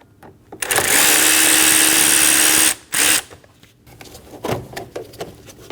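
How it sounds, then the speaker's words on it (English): A power driver with a T15 bit backing screws out of a Volkswagen Passat 2.5L intake, one long high whir and a short second burst, followed by light clicks and handling noises. "Using a T15 bit, we're going to remove the two screws for the intake."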